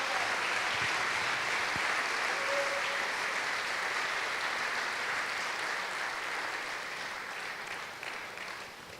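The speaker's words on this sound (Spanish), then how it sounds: "Damos una ofrenda de palmas al Señor," Church congregation applauding steadily during a Sunday service, a dense, sustained wash of clapping that holds for several seconds before slowly tapering off at the end.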